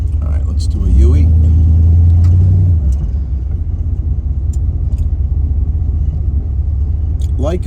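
A 1972 Plymouth Barracuda engine accelerates with a deep, loud rumble that rises in pitch for a couple of seconds, then settles into a steady cruising drone as the car keeps moving.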